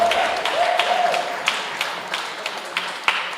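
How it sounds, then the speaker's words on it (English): Audience clapping at an annual general meeting of a council on ageing, a thin scattered round of hands with a few distinct louder claps standing out, fairly quiet and tapering, with a faint tone in the room early on. "Let's really give a round of applause"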